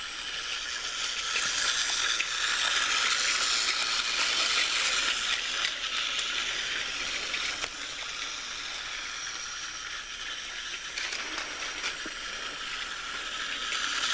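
Tomy Plarail James toy train running laps on a plastic track, a steady close whirring and clicking rattle of the small motor and wheels continuing throughout with slight dips in level, no voices.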